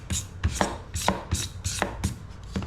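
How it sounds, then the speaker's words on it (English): A knife scrapes spines and nodules off a cactus pad, repeated rhythmic scraping strokes about every half second, close and crisp, with no talking. "When you scrape it with the knife like this, you'll feel it breaking off those little nodules where the spines typically come out of."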